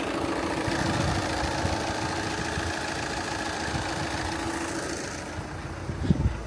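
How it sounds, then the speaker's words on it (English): A Volkswagen engine idles steadily just after a jump start, a constant close mechanical rumble with a faint knocking pulse, ending with a brief clunk near the end and no talking. "Ended up jump starting the Volkswagen. It seems to be running pretty fine now"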